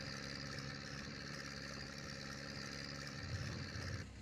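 Engine of a 40-year-old tractor in the Farming Simulator 22 video game, a steady droning idle held at even loudness throughout, with a slight rise in low rumble near the end and no talking.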